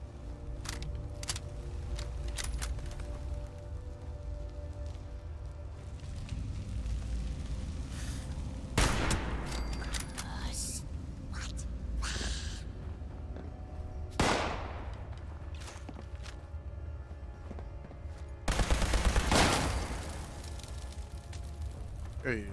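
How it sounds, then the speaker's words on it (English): Gunshots and blasts from enemies firing in Fallout ring out in scattered loud bursts over a steady rumble, each report sharp and separated by several seconds. "Hey, who else is shooting at me?"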